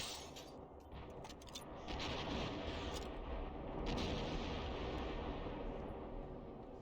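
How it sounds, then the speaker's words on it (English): Rifle gunfire in The Darkness video game, a dense rumbling stream of shots and booms that swells louder partway through, with no voices. "Let's try the rifle."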